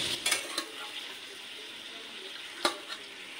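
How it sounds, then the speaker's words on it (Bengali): Country chicken pieces fry in a pan for a village-style curry, giving a continuous close sizzle with a few sharp utensil knocks and scrapes. "এটা আমি এইভাবে ভেজে নেব, তারপরে বাকি মশলা অ্যাড করব।"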